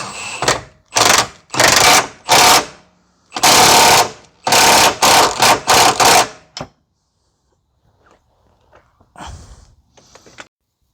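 A power impact tool tightens a lower control arm bolt on a 2011 Kia Forte 5 SX 2.4: about eight loud, close rattling bursts of a second or less, followed by quieter clicks and a short faint whir after a pause.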